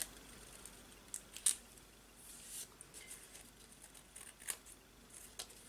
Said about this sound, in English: so just very carefully with your scissors, just trim it off.